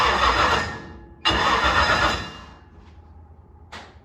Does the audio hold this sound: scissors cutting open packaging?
no